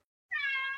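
A cat lets out a single clear, close meow after a moment of silence, loud and tonal with no voices around it.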